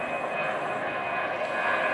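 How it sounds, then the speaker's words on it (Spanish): A jet airliner on the runways at Madrid-Barajas airport sends out a steady, loud engine roar with a sustained high whine, unbroken and constant for the whole stretch. "Estos son aviones"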